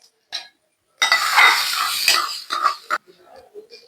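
Spoon stirring a Kannur-style kaamb varavu, a jackfruit dish, in a metal pan after the hot tempering is poured in, with a three-second burst of scraping and clinks followed by faint quieter clatter.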